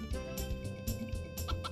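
Chickens in the video game Harvest Moon 64 cluck in short, rhythmic bursts, repeating a few times over a steady background tune at low volume.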